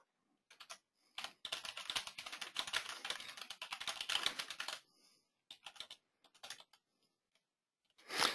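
Someone types on a computer keyboard while editing text, with quick close clacking runs broken by short pauses and a few isolated taps in a quiet room.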